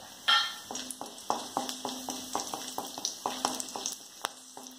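Whole cardamom pods and cloves frying in hot oil in a pan for Kerala-style chicken roast, with bright crackling sizzle and repeated sharp pops and spits, close and fairly quiet, no talking.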